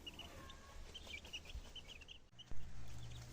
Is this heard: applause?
no